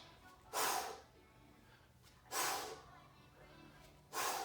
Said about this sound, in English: I'm breathing out